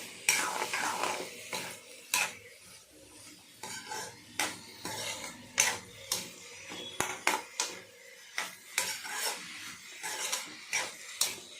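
Finely chopped onions are stirred and mixed in a pan for an ivy gourd dish, with repeated sharp spatula scrapes and clinks against the metal in an uneven rhythm, close up, with faint sizzling between strokes and no talking.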